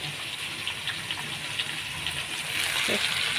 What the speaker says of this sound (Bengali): আমাদের একটু জল দিতে হবে নাহলে না বেরাচ্ছে না